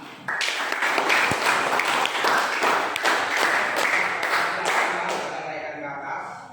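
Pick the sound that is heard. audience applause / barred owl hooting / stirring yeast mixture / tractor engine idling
audience applause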